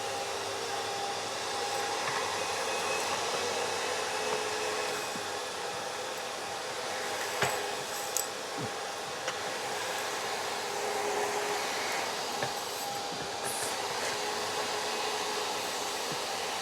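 Steady, loud suction roar of a vacuum hose pulling debris from a gutter, with occasional clunks and rattles as bigger bits get sucked through.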